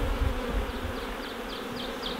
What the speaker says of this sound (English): I'll introduce these bees.